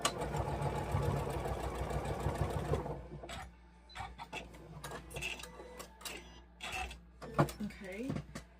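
A sewing machine runs in one steady, fast burst while stitching a small quilt block piece, then stops, followed by quieter handling clicks and rustles of fabric.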